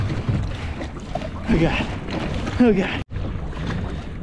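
A pedal kayak crosses a wide river heading into the wind, with gusting wind buffeting the microphone and faint water sounds beneath, close and continuous while someone speaks briefly.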